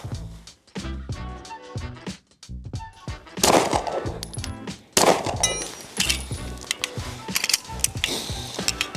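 A rapid series of sharp, clanking shots from a Walther PDP Steel Frame striker-fired pistol, sparse at first, then denser and louder, with metallic mechanical clicks between bursts.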